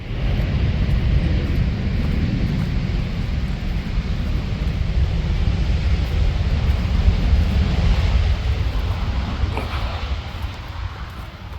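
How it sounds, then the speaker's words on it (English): A Jet2 Boeing 737 airliner that has just landed at Leeds Bradford Airport gives a continuous loud, deep roar of engine and rushing air, steady throughout with a slight fade near the end. "we've just got a Jet 2 737. Again, I'll have a look where that's arrived in from. That's literally just landed."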